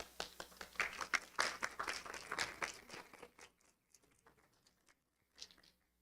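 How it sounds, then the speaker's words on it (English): Scattered clapping from an audience at a Sikh history competition prize announcement, a brisk patter for about three seconds that thins to a few isolated claps and fades out. "Round of applause."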